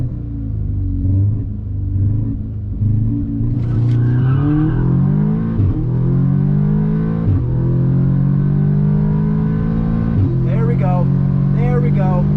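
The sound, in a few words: Stage 2 Audi S3 quarter mile drag strip pass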